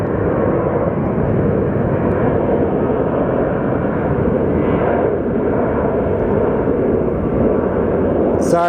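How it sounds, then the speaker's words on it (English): Jet engines of an American Airlines Boeing 777 at Sky Harbor Airport give off a loud, continuous low roar that holds steady the whole time, close and dominant, with a brief higher whine at the very end. "I think the American Airlines 777 is moving."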